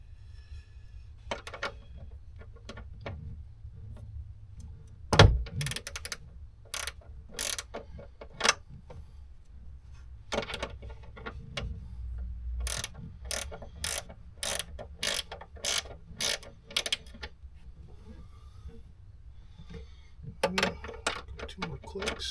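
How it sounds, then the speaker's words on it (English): Ratchet wrench with a 10 mm socket loosening a bolt during automotive work, giving a run of sharp mechanical clicks in uneven bursts, close up, with some quiet handling noise between them. "let's take this 10 mil and loosen the old lefty loosey."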